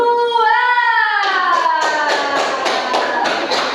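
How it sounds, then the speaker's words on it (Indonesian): After a teacher's spoken line, a classroom of children breaks into rhythmic, evenly spaced clapping for a group, repeated sharp claps continuing to the end. "Beri tepuk tangan buat kelompok 2."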